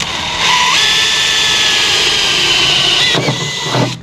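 A drill cuts into the metal rear wheel arch of a Honda S2000, a loud, steady high whine that holds for a few seconds before stuttering and cutting out near the end.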